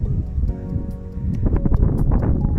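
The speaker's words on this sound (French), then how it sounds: "désolé pour le vent toujours" Low rumbling buffeting noise as wind gusts against the microphone outdoors in an edible forest garden, growing rougher and louder partway through.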